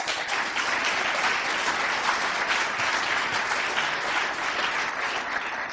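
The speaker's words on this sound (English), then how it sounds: "So please, a round of applause for them." A conference audience gives a round of applause, with dense, sustained clapping from many hands at an even level that carries through the whole stretch.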